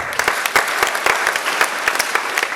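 A church congregation claps rapidly, with many hands close and loud in a steady burst from start to finish.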